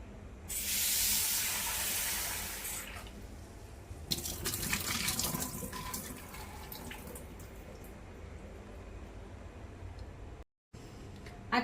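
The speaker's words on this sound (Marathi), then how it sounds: "आता आपण एक स्वच्छ 1-2 पाण्याने कोळंबी धुवून घेऊया।" Water splashes and hisses from a tap as raw prawns are rinsed in a bowl in a kitchen, first a strong steady spray, then broken splashing and trickling, fairly faint overall.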